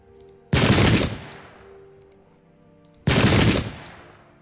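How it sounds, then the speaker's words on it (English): Two loud musket volleys in the Pike and Shot Campaigns battle of Dunbar 1650, each a dense crackling burst of massed fire about two and a half seconds apart, with a ringing tail and quiet field ambience between. "now we're going to fire on this disrupted unit"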